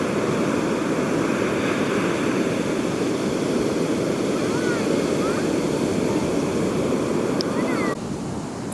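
Big ocean waves roll and crash continuously at Calangute Beach in Goa, a steady loud surf wash with wind noise across the microphone throughout.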